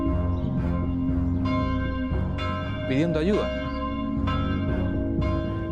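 Church bells ring steadily, their layered tones sustained throughout while a narrator speaks over them.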